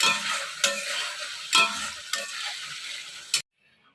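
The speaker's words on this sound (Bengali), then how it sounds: "এখানে যে এখন মশলাটা কষাচ্ছে মাছের" Fish masala being sautéed in a pan with bhetki fish, a steady sizzle broken by a few sharp scraping stirs, close and fairly loud, cutting off abruptly near the end.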